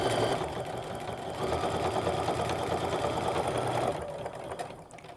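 A sewing machine runs along the seams of fabric nesting bags, a continuous fast needle chatter and motor hum that holds steady, then slows and stops near the end.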